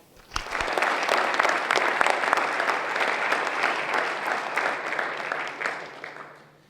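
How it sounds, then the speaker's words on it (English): An audience at a partnership celebration event breaks into applause, rising quickly to a full, steady round of clapping that tapers off at the end. "let's give a round of applause to Unlimited Play"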